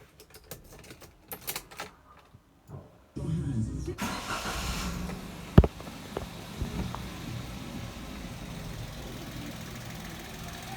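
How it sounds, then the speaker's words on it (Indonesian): A car engine cranks briefly, catches with a sharp burst, then settles into a steady, smooth idle after some clicking and handling noises at the start. "Coba kita nyalakan mesinnya terlebih dahulu."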